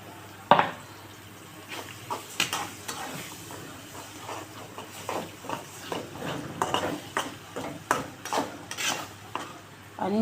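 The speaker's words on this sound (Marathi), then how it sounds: "आणि हे 6 अंडे फोडून घेतलेले टाकून देऊ" Six beaten eggs poured into a hot pan with turmeric and stirred for egg bhurji, giving a steady sizzle under repeated scraping strokes of a spoon against the pan, close and fairly loud, with no voices.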